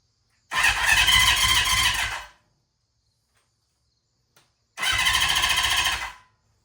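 An engine cranked twice after servicing, each attempt a loud, close, rapid mechanical churning lasting about two seconds, separated by silence with a faint click before the second try.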